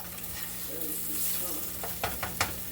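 Sausages sizzle and fry in a pan, a steady hiss punctuated near the end by a few sharp clinks and scrapes as they are flipped over, close by with no talk.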